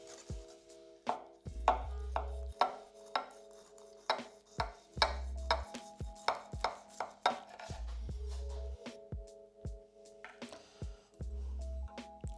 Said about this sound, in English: Get the biggest knife you can find and trim around the edges so it releases from the dish.